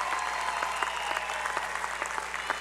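A graduation ceremony audience at a university commencement claps continuously, a dense, even wash of applause filling the hall at moderate volume.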